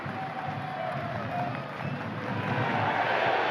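A football stadium crowd at an A-League match between Wellington Phoenix and Macarthur Bulls roars and cheers in a steady, swelling wash of noise, with a commentator's voice running faintly over it.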